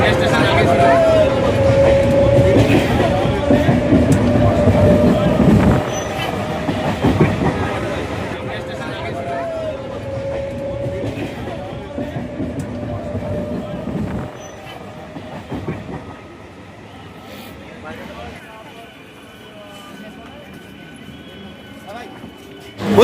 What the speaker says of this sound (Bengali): অবশেষে রানাঘাট রেল স্টেশনে এসে দাঁড়ালাম